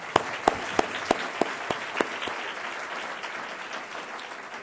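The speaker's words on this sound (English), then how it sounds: "Let's give her another round of applause." Applause from the audience at an annual business luncheon: a few sharp claps stand out early over a steady wash of many hands clapping, moderately loud throughout.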